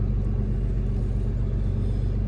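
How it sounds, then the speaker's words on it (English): Old Cummins diesel truck engine pulling under load, a steady, loud low rumble that holds constant throughout with no talk over it. "This old Cummins truck pulls good."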